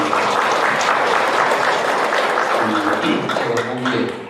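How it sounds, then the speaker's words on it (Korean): A congregation claps together at the start of a temple service: dense, steady, loud applause throughout, with a few voices surfacing near the end. "우리 서로 은혜로운 5월을 축원하는 의미로 박수 한번 치고 시작합니다"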